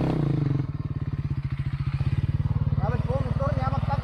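An enduro motorcycle engine runs close and loud on a trail at Tihov Dol, with a steady throbbing idle that lifts into revving, while someone talks over it.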